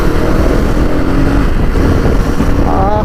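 Husqvarna Vitpilen 250 motorcycle engine running on a test ride, a loud continuous drone with rising revs toward the end, heavily mixed with wind buffeting against the microphone.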